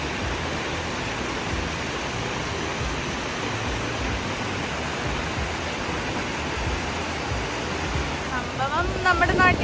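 A small waterfall in Bayrischzell, Germany, rushes in a steady, dense broadband roar, close and continuous, with a faint brief hint of something else near the end.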